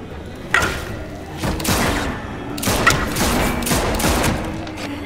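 A series of heavy gunshots and thumps from The Walking Dead Season 4 video game, several loud bursts spread across a few seconds, with no talk.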